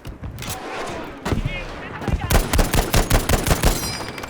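Gunfire in Battlefield V, with scattered shots at first building into rapid, close automatic bursts that rattle steadily through the second half.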